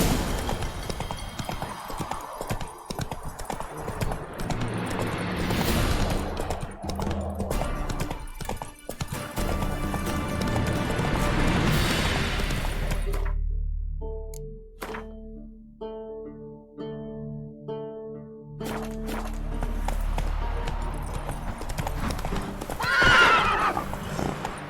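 A horse in The Witcher 3 gallops with rapid rhythmic hoofbeats, neighs loudly now and then, and slows briefly to a few separate clops before picking up speed again.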